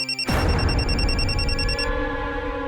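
A telephone rings with a bright electronic tone that starts abruptly after a short pause, sustains its steady harmonic ring for nearly two seconds and then fades, with no voices.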